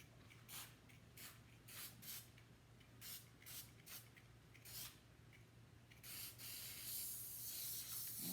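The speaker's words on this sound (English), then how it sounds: "with this spray glue, this one's weird. My other spray glue comes out a little better." Repeated short hissing bursts of spray glue from an aerosol can, several spaced sprays followed by a longer continuous hiss, close and fairly quiet, with a steady low hum underneath.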